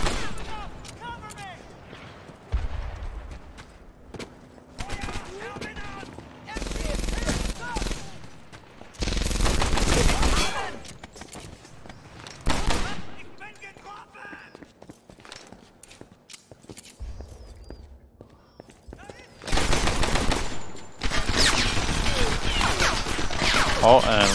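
Gunfire in Medal of Honor Airborne, several loud bursts of rapid automatic fire spread across the stretch with quieter gaps, shots and footsteps between them, and a person talking over parts of it.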